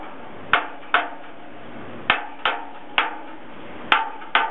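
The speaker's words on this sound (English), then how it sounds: "And now this is the true hammer test." A hammer tapping metal to check for rust inside: eight sharp, ringing knocks in an uneven rhythm, close and clear, each fading quickly, with no talking over them.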